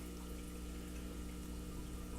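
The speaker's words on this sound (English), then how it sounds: "plug in the sump pump, and look how fast the water is draining" Sump pump draining water out of a home aquarium during a water change, a steady close whooshing rush of flowing water that holds level throughout with no voices.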